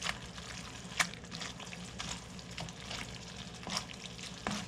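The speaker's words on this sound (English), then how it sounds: "Just mix the pasta in the sauce." Bucatini pasta stirred through homemade tomato sauce in a pan, a soft wet sizzle with scattered scraping and stirring clicks and a few sharper taps, moderately quiet and steady with no talking.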